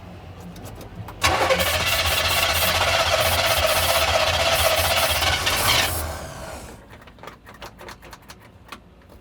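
A 1971 Chevy K10 truck engine being started by hitting the starter solenoid: it cranks and catches with a loud, sustained roar for several seconds, then drops away, leaving faint clicks and ticks.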